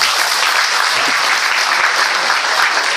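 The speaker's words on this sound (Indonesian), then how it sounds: "Tepuk tangan buat PSI." Audience applause at a PSI gathering, a steady, dense wash of many hands clapping at constant loudness throughout, with no break.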